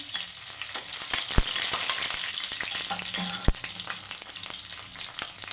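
Bay leaves, cumin seeds and slit green chillies fry in hot oil in a pan for an egg masala curry, giving a steady crackling sizzle with a couple of sharp utensil knocks.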